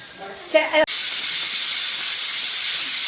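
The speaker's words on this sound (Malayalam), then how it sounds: "അങ്ങനെ കുക്കറിന്റെ വിസിലൊക്കെ വന്നു കഴിഞ്ഞു" A pressure cooker on the stove blasts a loud, continuous steam hiss for over two seconds after a voice briefly speaks and something clicks.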